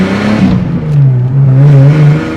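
A Ford Falcon with a Redback exhaust revs loud and close, its engine note holding and rising in a strong droning tone, alone with no voices.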